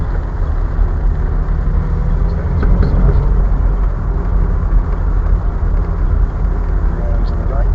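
A 1971 Hillman Imp weaves through a cone slalom, its engine a steady mid-pitched drone heard from inside the cabin, with people talking over it.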